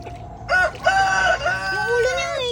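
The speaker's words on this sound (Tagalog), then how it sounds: "Tilaok ng tilaok." A rooster crows loudly and close by, a long harmonic call with a few rising and falling bursts, with faint background noise.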